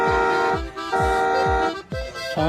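The electronic horn of a children's ride-on toy car sounds from its built-in speaker as a loud, close, tonal honking melody with thumping beats, played several times in quick succession.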